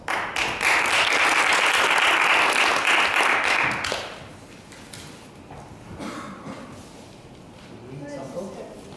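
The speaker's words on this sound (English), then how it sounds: "Your applause." Meeting audience applause, a loud burst of clapping from a room of people for about four seconds that stops abruptly, followed by quiet room tone and a voice starting to speak.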